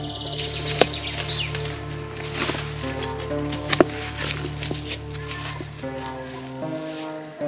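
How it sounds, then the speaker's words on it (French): Birds sing and chirp in woods around an old ruined forge, with a thin steady insect or cricket drone and a few soft footsteps or knocks, no talking. "J'espère que vous entendez les oiseaux qui s'en donnent à cœur joie"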